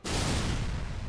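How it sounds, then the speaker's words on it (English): A single broad explosion effect from a vehicle firing in a Halo 3 mod: an abrupt, dense blast that stays loud for about a second with a rumbling low end, heard alone. "It applies and a single explosion plays."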